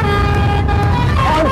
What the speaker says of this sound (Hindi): एक नंबर हॉर्न बज रहा है, एक नंबर हॉर्न